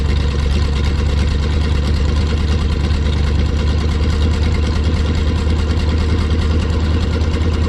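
Engine of a 1972 Plymouth Fury idling while it warms up, a steady, loud, close rumble with an even low throb and no change in pitch throughout, with no talk.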